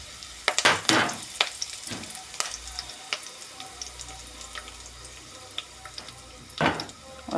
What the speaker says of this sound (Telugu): చూడండి ఫిష్ కర్రీ రెడీ చేస్తున్నాను. కొంచెం ఆవాలు వేసుకుందాం లైట్గా.